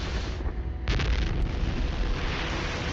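Explosions in the space video game No Man's Sky, a sudden heavy boom that rolls into a sustained loud rumble, close and dense with no talking.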